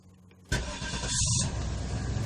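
A 1993-1999 Cadillac engine cranks briefly, then catches and settles into a steady idle, close and loud.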